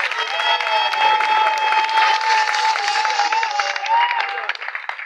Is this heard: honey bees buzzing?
no